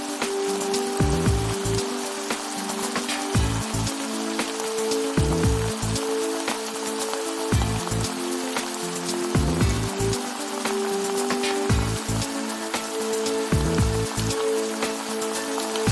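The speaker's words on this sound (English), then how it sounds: "Saute garlic and onion." Garlic and onion sizzle in a hot pan, a loud, continuous crackling hiss like rain, with a faint steady hum underneath and no talking.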